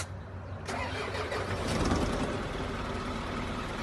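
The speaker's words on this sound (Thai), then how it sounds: "เดี๋ยวสตาร์ทเครื่องให้ฟังนะครับ" An Isuzu FRR 210-horsepower truck's diesel engine cranks and fires up, settling into a rough, steady mid-pitched idle, heard close.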